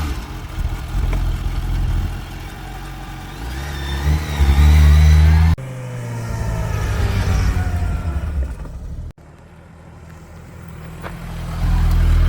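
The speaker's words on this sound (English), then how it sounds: "All right, let's take this Hayabusa for a rip." A 2025 Suzuki Hayabusa motorcycle roars through hard acceleration on a ride, its loud engine note climbing in pitch through rising gear pulls, cutting off abruptly between shifts, then dropping low before building again.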